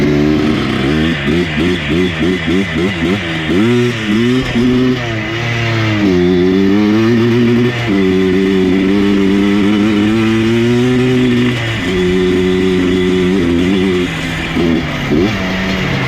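An abandoned ATV engine with an ignition fault revs hard and loud up close, its pitch rising and falling in uneven surges that stutter and break up between pulls.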